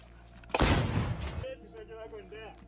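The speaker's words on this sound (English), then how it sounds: "Выстрел!" An artillery gun fires at night near Russia's Kursk border region, one loud booming blast with a sharp onset that rolls and decays over about a second, followed by quieter background sounds and faint voices.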